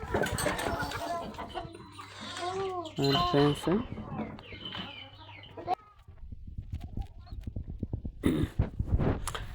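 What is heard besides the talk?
chickens and sheep on a farm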